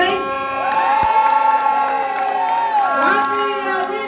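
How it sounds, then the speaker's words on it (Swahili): A large outdoor crowd at a political rally cheers loudly for the deputy president, a dense continuous roar with whoops and high shouting voices sweeping up and down throughout. "Wapi makofi ya naibu wetu wa rais?"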